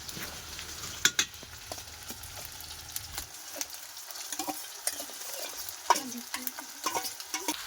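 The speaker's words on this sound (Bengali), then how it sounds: "প্রথমে দিয়ে দিলাম পেঁয়াজ কুচি আর রসুন বাটা একটু নাড়াচাড়া করে নেব" Chopped onion and garlic paste are stirred in a frying pan over a gentle sizzle, with repeated scraping and clicking of a spatula at an irregular pace, a low rumble dropping away partway, quiet and close, no speech.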